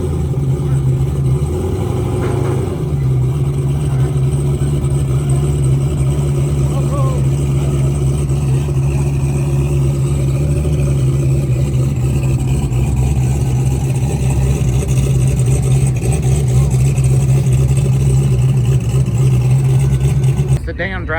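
Turbocharged GenV LT V8 in a truck running steadily with a constant low hum and drone throughout, fairly loud and continuous, with a brief shift in tone early on.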